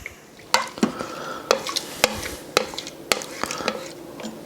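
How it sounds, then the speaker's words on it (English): Burrito bowl ingredients being mixed in an Instant Pot, a spoon scraping and knocking against the pot in a steady series of sharp strokes over a soft sizzle. "So now we're gonna mix all this up."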